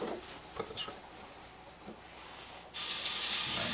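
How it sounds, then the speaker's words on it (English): A cooking oil spray can bursts into a loud, steady hiss over roasted vegetables, arriving suddenly after a stretch of quiet kitchen sounds and holding to the end. "I'm going to give everything a nice little spray."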